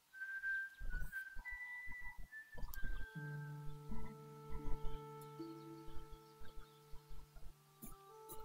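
A character in the game Baphomets Fluch 5: Der Sündenfall whistles a short tune of sustained, steady notes shifting in pitch, mixed with game sounds and brief clucking-like bursts, moderately loud and without speech.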